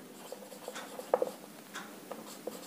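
Quiet, sparse scratching and tapping of a pen or marker writing on a board in a physics lecture, with soft strokes and a couple of sharper taps in a hushed room.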